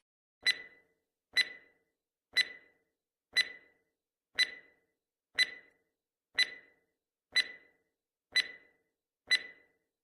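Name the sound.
countdown timer ticking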